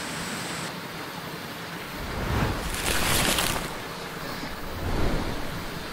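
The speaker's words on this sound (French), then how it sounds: "Derrière mon rocher de changeage, il y a une toute petite mini chute d'eau juste derrière." A tiny waterfall behind a rock on a mountain river, heard as a steady broadband rush of falling water with gentle swells, fairly close and continuous, no speech.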